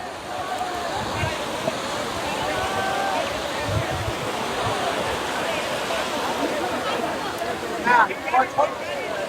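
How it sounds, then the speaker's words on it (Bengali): Incoming tidal seawater washes over Guliakhali beach, making a steady rushing, gurgling flow with a wind-like wash, with voices nearby. "আর এখন কিন্তু জোয়ারের পানি আসতেছে"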